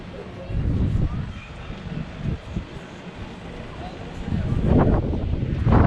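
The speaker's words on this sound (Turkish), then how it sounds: "gerçekten rüzgar biraz fazla ama çok fazla rüzgar var" Strong gusty wind buffets the microphone in heavy low rumbling bursts at the Şeytan Sofrası hilltop viewpoint in Ayvalık, rising and falling, loudest toward the end, with faint voices underneath.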